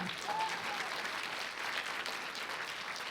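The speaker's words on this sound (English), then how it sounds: "Clap your hands for that." Applause from a crowd at a State of the Schools address, a dense, even patter of many hands clapping steadily throughout at a moderate distance.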